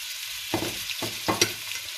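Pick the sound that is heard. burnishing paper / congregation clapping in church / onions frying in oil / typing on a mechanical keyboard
onions frying in oil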